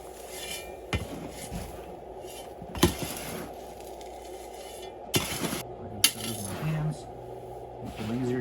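Cactus soil being mixed with rocks and organic potting soil: soft scraping and rustling with scattered sharp clinks and rattles of stones, fairly quiet and close.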